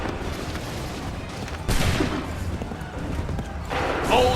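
A musket volley from the video game Assassin's Creed III bursts out loud and sudden after a stretch of rumbling battle noise, with a second crackling wave of fire near the end.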